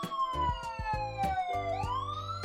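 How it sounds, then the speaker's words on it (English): A fire truck siren wails loud and close, its tone sliding steadily downward before sweeping back up, with rapid pulsing bursts layered underneath. "The siren blares."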